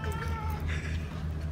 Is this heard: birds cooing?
no